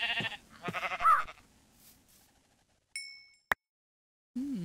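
Sheep in a video game bleats a few times close up, its quavering calls coming in a short burst, followed by a bright chime and a click, then a brief low bleat at the end.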